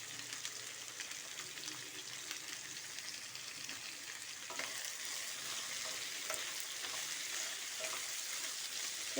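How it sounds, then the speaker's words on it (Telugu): Ivy gourd (tondakaya) cooks in a pan with salt, giving off a steady, close sizzle and soft crackle with faint stirring scrapes, heard alone without speech. "ఈ సాల్ట్లో మగ్గనిద్దాము మనము దొండకాయ."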